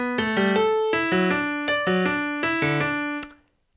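Plucked melodic notes play a repeating rhythm in which the middle note of each triplet is nudged earlier, so the three notes divide the beat evenly; bright, clear tones in several short phrases ending abruptly, no talking.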